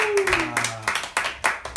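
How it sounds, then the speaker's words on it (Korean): A small group clapping together during a live-streamed boy band broadcast, sharp uneven hand claps near the mic with a voice trailing off at the start. "우리 박수 한번 다 같이 해보시죠."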